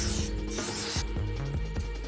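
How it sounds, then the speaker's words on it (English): Testor's dull coat is sprayed onto a model freight car in a few short hissing mists outdoors, close and steady, with faint music running underneath. "Going to use some Tesser's dull coat to spray this."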